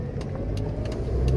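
A car engine idling high and steady, its throttle bodies dirty with carbon buildup, giving a close, continuous low rumble with slight wavering and no revving.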